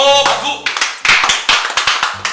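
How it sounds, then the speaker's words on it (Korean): A group of people clap their hands in a short burst of sharp, uneven claps that start after some talking and continue in a rapid ragged rhythm. "야 박수"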